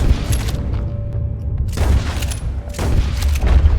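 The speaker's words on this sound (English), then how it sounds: "They're shooting from that building." Gunfire in the Wild West game Red Dead Redemption 2, with several loud shots and booming bursts in uneven clusters, close and dominant.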